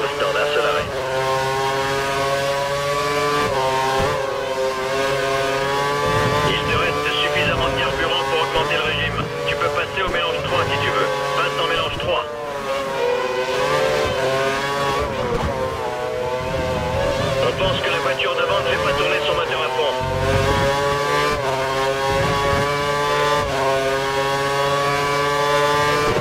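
A high, whining Formula 1 engine in the video game F1 2013 at Austin drones steadily, pitch rising and falling as it shifts gears, with a voice talking over it throughout.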